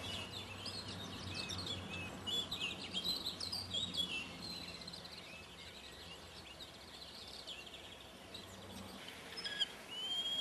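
Assorted birds chirp and sing in a garden refuge in the Côtes d'Armor, with scattered tweets and calls at moderate distance over a soft outdoor background and no talking.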